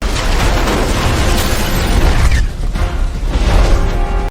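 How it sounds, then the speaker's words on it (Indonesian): Film sound effect of a bomb exploding inside a monster's belly: loud, continuous booming rumble with crackling bursts, a short dip midway, then another heavy surge before cutting off. "Mr. Terrific pun memasukkan bom ke dalam mulut si monster sehingga bomnya meledak di dalam perut si monster."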